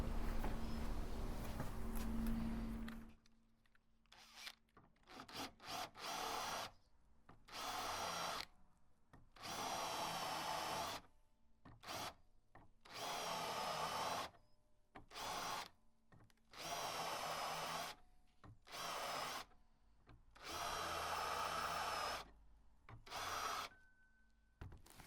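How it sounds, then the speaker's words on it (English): A drill fitted with a countersink bit cuts into wooden door holes for slotted screws, repeating about ten short whirring bursts separated by brief silences after an initial steady run. "we're going to be using some traditional hardened countersunk slotted wood screws and a countersink bit in this drill."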